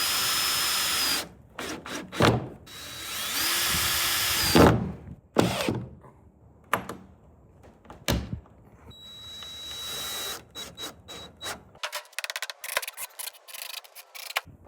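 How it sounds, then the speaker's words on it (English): Power drill driving a couple of screws into wood while a chicken brooder is built, heard as several short, loud whirring bursts broken by pauses and a few light knocks and rubbing sounds. "I'm going to put a couple of screws in there"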